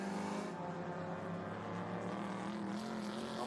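Historic sports racing cars roar past together at The Mitty, an HSR historic sportscar race, their engines loud and sustained as they climb over a crest while battling for position.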